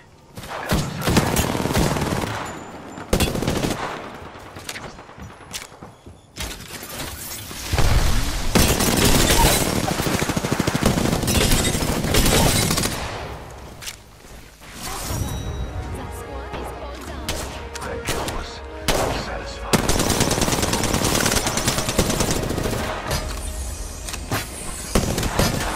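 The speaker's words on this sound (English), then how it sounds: "Taking fire. Firing." Weapons firing in the video game Apex Legends crackle in repeated dense bursts of rapid gunfire, loud and close, broken by short pauses and layered with distant shots and booms.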